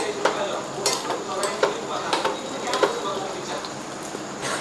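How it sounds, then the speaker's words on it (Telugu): Cashews and almonds frying in ghee in a pan for a traditional festival sweet, with soft continuous sizzling, a few sharp stirring clinks of a spoon against the pan spaced through the scene, close and moderately loud. "కొద్దిగా నెయ్యి తీసుకుని దానిలోకి జీడిపప్పు అలాగే బాదం పప్పులు 2 కూడా వేయించుకోవాలి"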